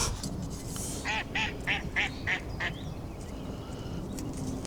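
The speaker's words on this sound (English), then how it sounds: "Quack quack duck." A duck quacks six times in a quick, evenly spaced series at a reservoir shore during trout fishing, fairly distant and moderately loud over steady outdoor wind and water background.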